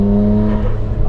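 A loud, close engine holds a steady droning tone, then its pitch dips and wavers briefly as the revs change, with no talking.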